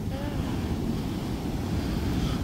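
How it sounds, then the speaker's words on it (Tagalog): Waves wash against a rocky shoreline, a steady broadband rush of surf mixed with wind buffeting the microphone, continuous and fairly close without distinct individual breaks. "Ang galing kasi yung alon, hindi naabot dito sa shore kasi may mga bato dito."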